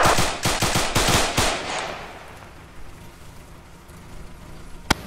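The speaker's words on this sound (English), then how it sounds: "We're taking fire. Yes. From the derelict vehicle." Gunfire from a derelict vehicle in a video game: a fast, loud burst of about eight close shots, then a fading tail and quiet before one sharp lone shot near the end.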